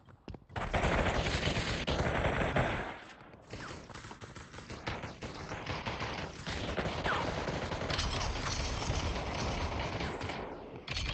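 Gunfire in the VR shooter Population One, loud rapid bursts of automatic fire that pause briefly and then resume in sustained volleys.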